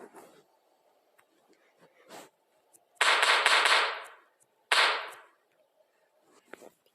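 Two long bursts of rapid-fire minigun fire in a video game erupt, one lasting about a second and a shorter one after, with quiet gaps and faint clicks around them.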